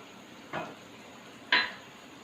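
A spoon scrapes twice through thick chana dal halwa with crushed almonds and pistachios in a pot, two short, distinct strokes about a second apart over a quiet background.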